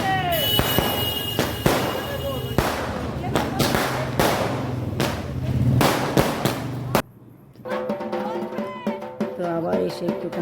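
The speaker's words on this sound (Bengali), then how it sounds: "তাই রাস্তায় এসে আমরা বাজিটা ফাটাচ্ছি" Firecrackers bursting in rapid succession on a street during a Kali Puja celebration, loud sharp cracks and pops repeating for several seconds, then a brief lull before scattered bangs continue amid festive voices and crowd noise.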